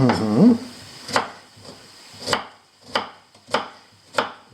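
A knife chops mushrooms on a cutting board for mushroom soup, six sharp, evenly spaced thuds about a second apart, close and clear, after a brief burst of voice at the start.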